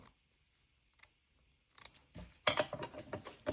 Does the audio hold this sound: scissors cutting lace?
yes